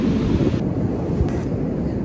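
Cold wind gusting across a beach and buffeting the microphone in a loud, steady low roar that continues throughout, with possible surf mixed into the rumble.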